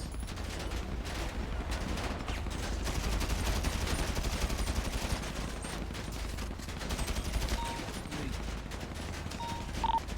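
Rapid gunfire in a roleplay video game, a dense continuous barrage of shots with short bursts and a few tonal beeps, loud and sustained with no speech over it.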